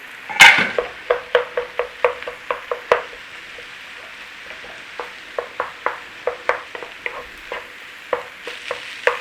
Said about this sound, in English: Just break up your clumps of rice if you are using cold rice like me, cooked rice